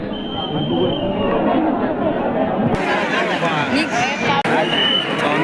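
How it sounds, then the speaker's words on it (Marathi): A large, dense crowd chattering at a Ganpati pandal in Pune during the festival, a steady close babble of many voices with no single speaker standing out. "गर्दी मोठ्या प्रमाणात आहे"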